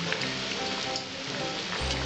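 Potato pakoras frying in hot oil, a continuous dense crackling sizzle like steady rain, loud and close, without speech.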